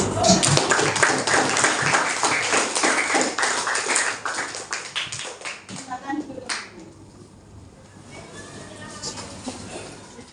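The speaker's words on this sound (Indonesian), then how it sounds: "Beri tepuk tangan untuk kelompok 1" A class in an Indonesian teacher-training session applauds a student group after its presentation, with brisk, fairly close hand clapping that thins out and fades after about six seconds into quieter room sound.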